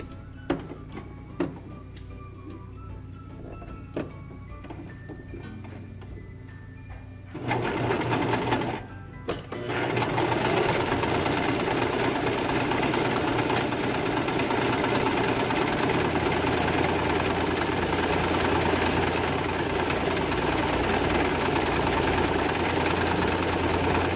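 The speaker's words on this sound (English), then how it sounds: "We're also going to sew right here at the edge to create that casing." Sewing machine stitching the edge casing of a plastic bag holder: a few faint clicks and a brief burst at first, then a steady, loud, rapid mechanical whir that runs on without stopping.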